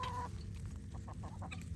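A rooster clucks in a short series of quick, close calls, fairly quiet and alone.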